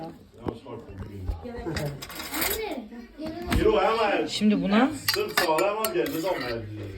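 Dishes and cutlery clink and clatter as they are unloaded from a dishwasher and set down, under ongoing conversation close by.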